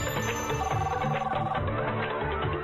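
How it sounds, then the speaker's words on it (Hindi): Cartoon telephone ringing, a steady bright electronic trill repeating in quick pulses throughout, fairly close, alone without talk. "बॉस का फिर से फोन क्यों आ रहा है?"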